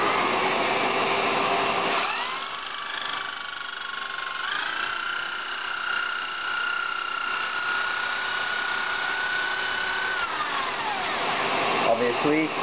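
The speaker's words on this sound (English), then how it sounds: "I'm going to put on the vacuum, and it's going to be noisy" A vacuum extracts stinking fumes while horn nocks are drilled: a loud, close motor drone with a whining tone that rises, holds steady for several seconds, then drops away near the end.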